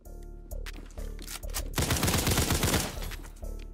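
Rapid bursts of M4 rifle fire from the Roblox game Criminality, loud and close, arriving in several short volleys with one long sustained stream of shots in the middle, and no talking.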